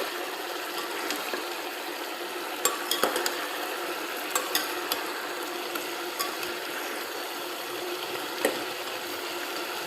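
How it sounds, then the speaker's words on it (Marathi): Cooked mixed vegetables for veg biryani being stirred in a pot: soft continuous scraping with scattered sharp clinks of the spoon against the metal, quiet and close, without speech. "आपण याला छान असं मिक्स करून घेतोय"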